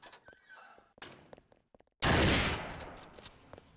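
Loud, close gunfire bursts out suddenly in Garry's Mod, a dense crackling volley of shots that fades over a second, after scattered faint clicks and shots.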